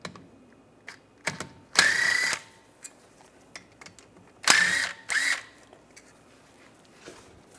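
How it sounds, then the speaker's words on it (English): Bolts on the back of a brake caliper on a 2008-2017 Buick Enclave being spun out with a 13mm socket on a power tool, two loud close whirring bursts with faint clicks and taps between them. "On the back side of the caliper, we're going to take these two bolts out,"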